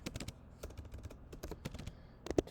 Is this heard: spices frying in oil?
no